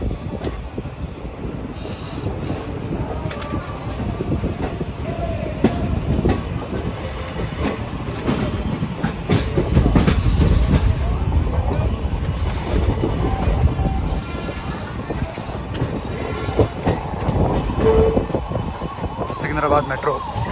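A train leaving Secunderabad for Chennai rumbles and clatters continuously, with wind buffeting and rhythmic wheel clicks, while people talk intermittently in the background.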